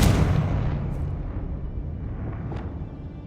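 A Confringo fire spell goes off in Hogwarts Legacy, a loud blast at the start that decays into a rumbling tail, with a couple of faint high swishes after it.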